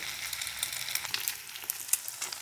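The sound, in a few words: omelette frying in oil over high heat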